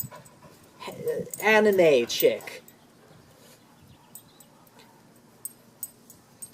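A pet dog whimpers and pants in a short, high-pitched burst of whining close by, then quiet breathing, with a person talking over it.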